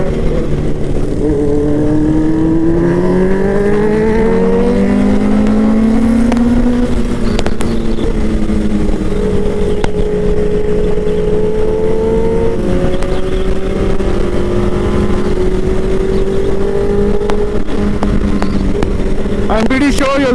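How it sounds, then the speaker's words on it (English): Several superbikes on a group ride, including a Kawasaki Z800, revving their exhausts together; engine notes rise and fall in overlapping sweeps, loud and close, continuous for the whole stretch. "I'm pretty sure you're loving the sound of all the bikes here."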